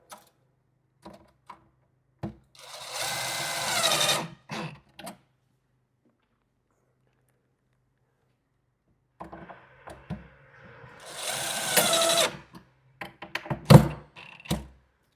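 Two bursts of a power drill driving screws into a door lock's metal strike plate during carpentry work, each whirring for about two seconds, separated by quiet and scattered knocks and clicks of handling.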